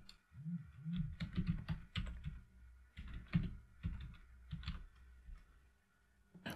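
A command is typed on a computer keyboard: close, quick bursts of key clicks and clacks with short pauses between them, ending in a few final keystrokes.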